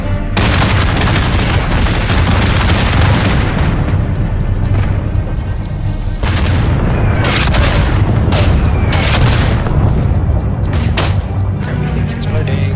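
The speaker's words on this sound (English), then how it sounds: "Everything's exploding." Explosions and gunfire fill a World War One battle in the game Isonzo on the Cengio map, with loud, dense booms and shots rolling continuously and players talking over the din.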